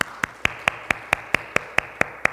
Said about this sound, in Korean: 자, 우리 박수로 우리 환영하시겠습니다.